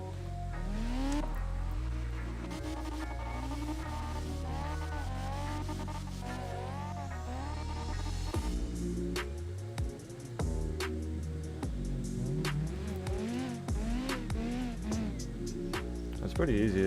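Cars drift online in CarX Drift Racing, engines revving and tires squealing in repeated sweeping bursts, with a person talking over the game audio throughout.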